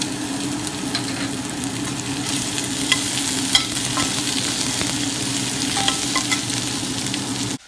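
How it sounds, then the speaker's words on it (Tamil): Garlic and onion sautéing in a pan for a Tamil poondu kulambu, a steady close sizzle and crackle with occasional stirring scrapes, continuous and without talk until a brief cut at the end. "பூண்டு கொஞ்சம் வதங்கி வந்த உடனே நம்ம இதில் எடுத்து வச்சுருக்கிற வெங்காயத்தை சேர்த்து வதக்கிக்கலாம்."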